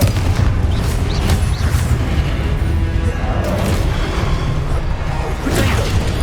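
Confringo blasting-spell explosions in the video game Hogwarts Legacy roll into one another as a dense, loud wall of booming rumble, with whooshes and crashes layered over it and no pause from start to finish.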